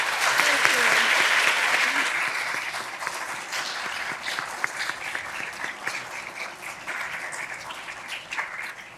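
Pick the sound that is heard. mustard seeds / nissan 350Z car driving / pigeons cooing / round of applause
round of applause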